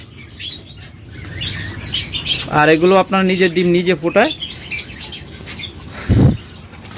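Yellow-collar lovebirds kept in cages chirp and flap their wings nearby, with a bright burst of wingbeats partway through, while someone talks over them.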